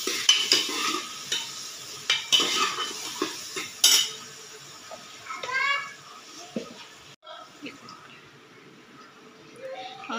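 Potato pieces with turmeric are stirred in a pan while sautéing, giving a run of scraping, clinking spoon strokes and light sizzling, with people talking now and then in the background.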